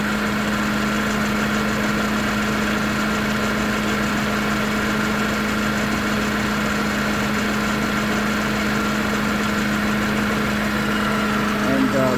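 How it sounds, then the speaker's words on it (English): 2004 Mercedes C230 W203 with a 1.8 supercharged engine, vibrating while idling, a steady low drone and hum that stays constant throughout. "this engine has a vibration. Like right now, it's vibrating."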